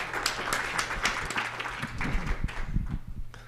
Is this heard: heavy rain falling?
no